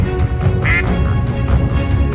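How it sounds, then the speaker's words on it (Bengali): A cartoon duck quacks loudly and close, a few nasal calls standing out over a busy background of music and effects. "আমার হাঁস।"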